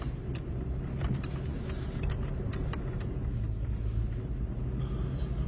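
Steady low engine rumble and road noise from a car driving home from work, constant throughout with faint clicks and ticks over the drone.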